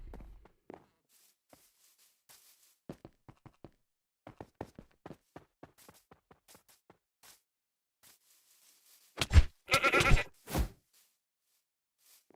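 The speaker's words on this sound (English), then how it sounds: "I'm killing goats." Goats bleating in the RLCraft Minecraft game as they are attacked and killed, a burst of loud bleats near the end after sparse scattered taps and footsteps in a quiet stretch.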